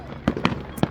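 Fireworks go off in the background: three sharp, distant bangs spaced unevenly over a steady hiss of ambient noise.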